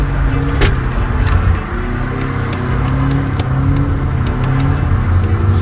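A drift car with a welded differential revs hard nearby, the engine droning and surging as it is flicked into a first-gear kick, with tire and road noise underneath and loud throughout.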